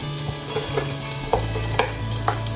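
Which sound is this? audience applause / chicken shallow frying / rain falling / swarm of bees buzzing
chicken shallow frying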